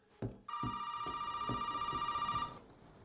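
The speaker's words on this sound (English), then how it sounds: "After a scuffle and a chop, a phone rings." A telephone rings in the Resident Evil video game, a steady electronic bell tone sounding continuously for about two seconds over a few soft thumping footsteps or knocks, fairly quiet overall.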